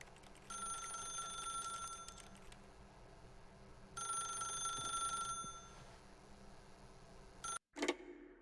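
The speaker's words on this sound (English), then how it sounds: "then pick up the phone" A telephone rings in the video game The Stanley Parable, two long bursts of bright, trilling electronic ringing separated by a quiet pause, fairly soft, with a brief clatter at the end.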